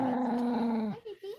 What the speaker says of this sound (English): I think she's growling at Rocky, not because there's a Chihuahua here